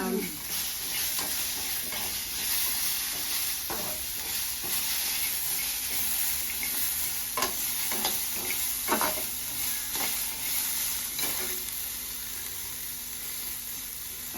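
Cumin seeds sizzle in hot oil for an old tamarind peel chutney as a steady hiss, broken by repeated scraping stirs and light clinks of a spoon against the pan.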